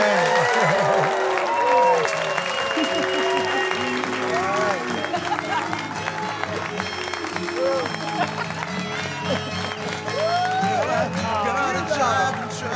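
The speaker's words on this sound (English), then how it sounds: "Huge round of applause, please" Audience applause, with dense sustained clapping from a crowd mixed with cheering and babble, loud and continuous across the whole stretch while voices carry over it.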